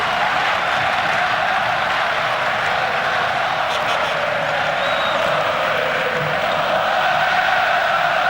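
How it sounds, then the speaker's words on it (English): A delighted futsal crowd fills an indoor arena during a 1996 World Championship final between Spain and Brazil, a steady dense roar of cheering and massed singing that holds at high level throughout with no break. "A delighted crowd now. Certainly can sing."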